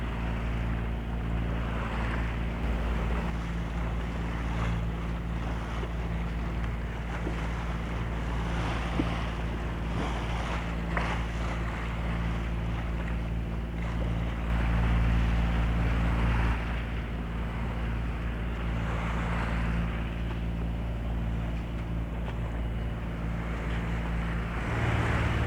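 Sailboat running with the wind on its stern quarter near the Sound of Mull at about six knots in ten knots of wind, with steady wind rushing across the microphone and waves sloshing continuously, no voices.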